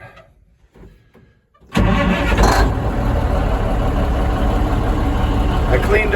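The engine of a 1949 Kenworth truck cranks briefly after a few faint clicks, then catches and settles into a loud, steady, rumbling idle close by, with no one talking.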